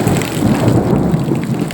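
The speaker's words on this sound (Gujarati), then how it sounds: "અત્યારે ફૂલ તોફાન ઉપડ્યું છે અને ફૂલ વરસાદ પણ વરસી રહ્યો છે અને ફૂલ પવન પણ વાઈ રહ્યો છે" Heavy unseasonal rain and strong wind lash a village during a mini-cyclone night storm, a loud, steady, unbroken roar of downpour and gusts with no talking.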